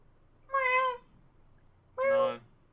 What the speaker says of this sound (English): Storm the cat. Say hi.